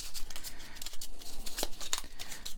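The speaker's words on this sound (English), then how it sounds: "I'm going to shuffle these up." Quiet shuffling of a deck of miracle cards for a board game, soft papery riffles and slides with a few sharper snaps, close and alone without talk.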